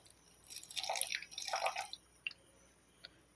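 Small amount of room-temperature water poured into a coffee and sugar mixture for cold coffee, heard as a short, close trickle and splash with a couple of drips trailing off afterward.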